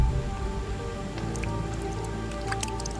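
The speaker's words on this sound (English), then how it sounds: "Rain." Heavy rain pours onto Singapore jungle foliage, a dense steady patter with scattered close drips and splashes standing out over the constant wash.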